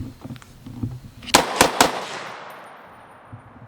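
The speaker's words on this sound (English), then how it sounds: "Now I'm gonna put my hearing protection on because I expect this thing to run flawlessly for these 3 rounds." Three sharp AR-10 rifle shots fired in quick succession outdoors, loud and close, each crack ringing into a long fading echo; faint background noise before the shots.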